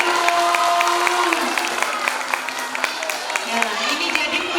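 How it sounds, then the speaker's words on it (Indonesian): Audience applause at a Sayyidah As Sholchah selection event, with scattered claps going on steadily under raised voices and crowd chatter. "boleh dikasih tepuk tangan yang meriah dulu"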